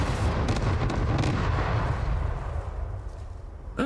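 Cluster munitions go off in the factory-building game Satisfactory, a dense rolling barrage of loud booms and blasts that rumbles steadily and then tails off, with a sharp crack at the end.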